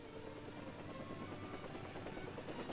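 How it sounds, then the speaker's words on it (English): U.S. Army 13th Aviation Battalion helicopters flying in South Vietnam during Operation Dan Chi, a steady, dense rotor and engine drone that holds at an even loudness throughout with no voices. "Helicopters of the U.S. Army 13th Aviation Battalion provide direct air support"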